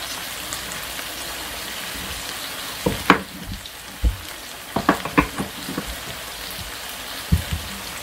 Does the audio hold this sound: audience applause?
no